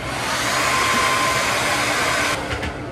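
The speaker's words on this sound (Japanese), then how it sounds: "ピンで留めて寝てるので癖がついちゃってるのでドライヤーで戻します。" A hair dryer blows steadily on bangs that were set with pins overnight, a loud, close continuous whoosh that holds for nearly three seconds and then cuts off.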